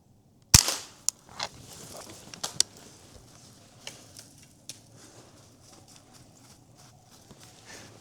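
A single sharp gunshot cracks out while squirrel hunting in thick woods, followed by scattered rustles and light taps in an otherwise quiet outdoor setting.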